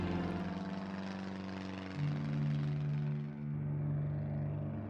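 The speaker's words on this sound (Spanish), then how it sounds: "los aviones de la Marina desde los cielos siguen sembrando el pánico y la muerte" Navy military aircraft pass overhead during a bombing raid, a low droning propeller-engine hum that swells and shifts pitch midway, steady and moderately distant with no voices.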